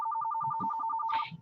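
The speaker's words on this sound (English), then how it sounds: "And I get a phone call also." A telephone ringtone sounds for an incoming call, a steady run of evenly spaced electronic tone pulses that keeps going through the whole stretch, with brief talk and a small noise breaking in over it near the end.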